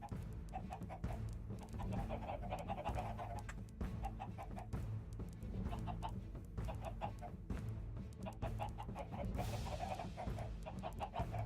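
Minecraft-style video game chickens clucking repeatedly over a steady low background hum, a dense run of short bird calls throughout, with no talking.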